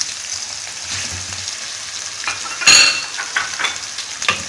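Chicken frying with onions in a pan gives a steady sizzle, while a utensil scrapes and clinks against the metal during stirring, including one louder sharp clank midway.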